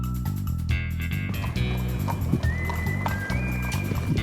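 Horses walk at a ranch near Patagonia, Arizona, their hooves clip-clopping in a steady rhythm under continuous music, with a faint whinny-like tone.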